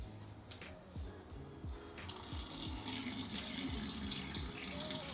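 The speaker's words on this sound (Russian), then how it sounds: "Промываем каждую рыбку под проточной водой по отдельности." Red mullet rinsed one by one under a running kitchen tap, a steady close hiss of flowing water with brief splashes and gurgles as the small fish are turned in the stream.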